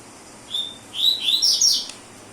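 A rusty-collared seedeater sings a few bright, high whistled phrases in quick succession, clear and close against a quiet background.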